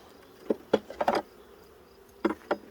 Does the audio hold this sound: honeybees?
yes